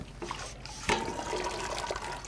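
Boiled potatoes being drained, water pouring out of the pot in a steady splashing rush with a sharper gush near the start, close and fairly loud, with no talk.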